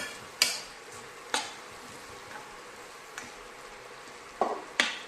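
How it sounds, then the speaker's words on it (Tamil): Onion masala sautéing in oil for egg masala gives a soft, steady sizzle broken by a few sharp clicks of a spoon scraping the pan, close by and with no talk. "இது ஒரு அரை நிமிஷத்துக்கு வதக்கினா போதும்."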